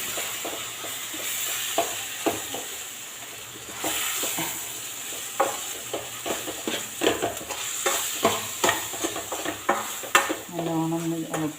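Onion masala frying with a little salt in a pan for a crab dish, a soft sizzle under repeated spoon scrapes and taps against the metal, close and steady.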